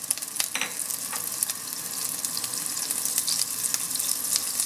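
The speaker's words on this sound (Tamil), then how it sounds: "அது ஹீட் ஆனதும் பட்டரை ஃபர்ஸ்ட் சேர்த்துறலாம்." Butter melting in a hot pan as the first step of restaurant-style butter chicken, a steady close hiss and crackle of frying that builds slightly over a few seconds, with no voices.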